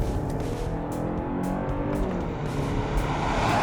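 A 2023 Kia Sportage with its 2.5 liter engine revving hard on the throttle, a steady, aggressive rumble with road and tire noise, close and continuous with no talking.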